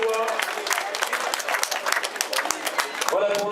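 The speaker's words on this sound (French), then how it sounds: "On peut l'applaudir également." Spectators at an outdoor cycling race applaud a finisher with sustained, lively clapping while a voice talks over the crowd.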